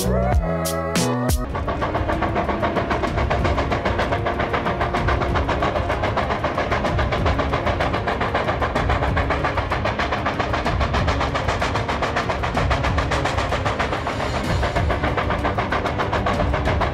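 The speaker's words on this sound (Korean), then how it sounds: "차가운 불을 뿜는 증기기관차에서 불꽃이 튀고 굴뚝에서 나오는 증기가 아직도 지나간 시대에 살아있는 유물로 남아있다는 게 놀랍습니다" Steam locomotive running with steam pouring from its chimney, a loud, unbroken mechanical roar and rumble held steadily throughout after a few sharp knocks at the very start.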